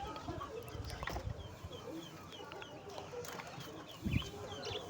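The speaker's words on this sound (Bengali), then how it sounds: "দেশি মুরগিও আছে, মোরগও আছে।" Country hens and roosters cluck steadily at a bird market stall alongside quail, with a busy crowd murmuring and talking throughout.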